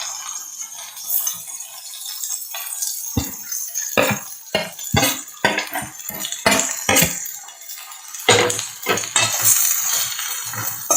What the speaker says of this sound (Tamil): எல்லாத்தையும் போட்டு நல்லா வதக்கிக்கலாம்